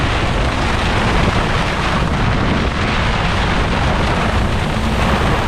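A strong wind of about 40 knots roars over a sailing catamaran in Croatian waters, a loud, constant buffeting rush that fills the whole stretch with no break and no speech.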